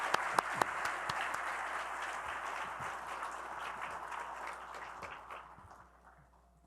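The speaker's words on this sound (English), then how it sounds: "I'm going to ask you to join me one more time in giving an enormous round of applause to the entire AJC professional team" An audience at a closing plenary session gives a round of applause to a professional team, a dense wash of clapping with a few sharp claps that gradually fades away toward the end.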